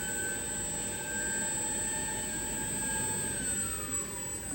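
A Rawsuns READ4200Z 110 kW electric axle spinning its wheel in reverse on a test stand: a steady high electric whine with tonal harmonics and a pitch that sags near the end, continuous and fairly loud, without talk.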